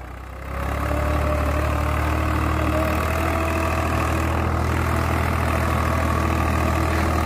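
Swaraj 735 tractor pulling an 11-tine cultivator revs up after a brief quieter stretch, then holds a loud, steady diesel drone with heavy low rumble, close by.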